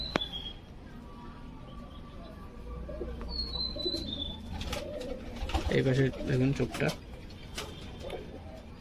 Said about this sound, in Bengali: অন্ধ্রা পায়রা দেখুন,